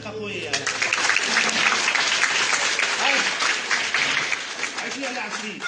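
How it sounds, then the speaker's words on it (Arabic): An audience applauds after a kindergarten children's song performance: loud, dense clapping swells quickly and holds steady, then eases slightly, with voices and cheering mixed underneath. "تصفيق اخوي."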